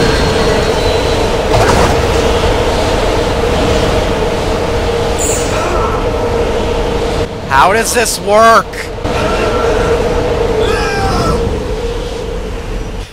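A tram in Dead Space 2 rumbles and hums steadily throughout, with a brief louder surge midway, while someone talks over the mechanical drone.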